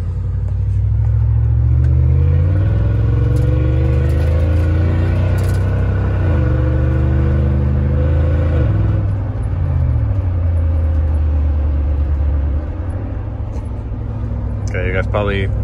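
Fourth-generation Toyota 4Runner V8 with a muffler delete driving, a deep rumbling exhaust that rises and drops through several gear shifts, steady and close from inside the cabin.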